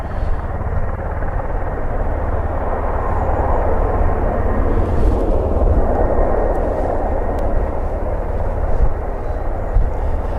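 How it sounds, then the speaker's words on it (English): Steady, loud rotor and engine drone of a tiltrotor aircraft at an airfield, a broad continuous roar that holds level for the whole stretch with no talk over it. "A tilt or rotor aircraft, I think that's what I would classify it as."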